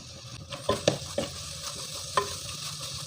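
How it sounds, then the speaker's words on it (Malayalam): Sautéed onions with a spoonful of crushed ginger and garlic are stirred in a pan for cashew nut curry. Soft sizzling runs under a few sharp spoon scrapes and taps, close and quiet, with no voices. "സവോളയ്ക്ക് വഴന്ന് വന്ന് തുടങ്ങിയിട്ടുണ്ട് കേട്ടോ ഈ സമയത്ത് നമുക്കിതിലേക്ക് ഒരു ടേബിൾ സ്പൂൺ ഇഞ്ചി വെളുത്തുള്ളിയും ചതച്ചത് ചേർത്ത് കൊടുക്കാം മിക്സ് ചെയ്ത് വെക്കുക"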